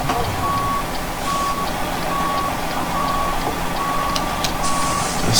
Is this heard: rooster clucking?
no